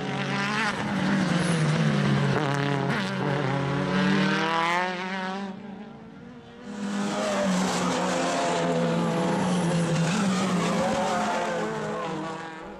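Race cars at the Dracon Circuit, including a BMW M3 overtaking, roar loudly past with rising and falling engine notes, a brief dip as one car passes before the next surges close again.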